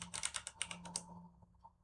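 Typing on a computer keyboard while entering a switch banner command in a Cisco Packet Tracer terminal: a quick burst of close, crisp key clicks that slows and fades toward the end, alone without talk.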